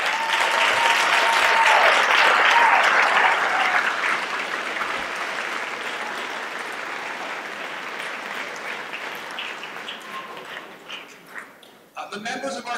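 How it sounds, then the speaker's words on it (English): Loud applause from a large crowd at a high school awards ceremony, clapping densely at first and gradually thinning out, with a voice starting to speak at the very end. "If you folks could just rise real quick so we give you a round of applause"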